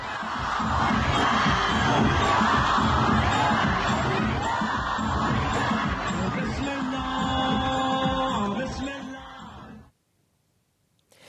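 A large street crowd in Baalbek, Lebanon celebrates, cheering, shouting and chanting loudly and continuously with whoops before it cuts off abruptly into silence.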